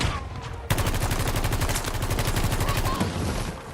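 Rapid automatic gunfire in a video game from a gun with strong side-to-side recoil, a dense steady stream of close, loud shots lasting a few seconds before cutting off.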